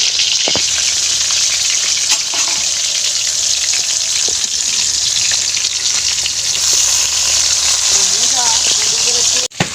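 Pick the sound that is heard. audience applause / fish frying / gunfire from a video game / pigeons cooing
fish frying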